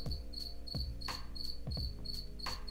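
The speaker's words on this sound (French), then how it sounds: "Le grillon m'en est témoin." A cricket chirps in steady, evenly spaced bursts, bright and clear, over a low, thumping rhythm that repeats beneath it.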